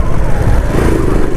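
Motorcycle engine running steadily up close while riding through heavy traffic, a continuous loud drone with low rumble; the bike feels hard to control and its rear tyre is low on air.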